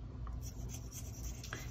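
Metallic marker scratching and rubbing across embossed paper in a card-making setting, faint soft strokes close up over a steady low background hiss.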